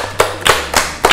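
Four sharp hand claps in a steady rhythm, close and loud, from a casual community hangout.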